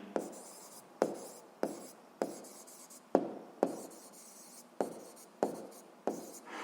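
A pen writes out a physics answer in a series of quick, dry scratching strokes, about ten short bursts each ending in a tap, close and fairly quiet with no talk.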